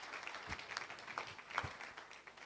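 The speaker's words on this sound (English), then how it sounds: "let's give ourselves a round of applause" A round of applause from a crowd, steady scattered clapping heard from a distance, fairly faint.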